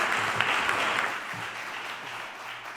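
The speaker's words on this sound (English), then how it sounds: "please give a warm round of applause for our panelists today" Press conference audience applauding panelists, a steady, moderately distant wash of clapping that continues throughout with a few faint voices underneath.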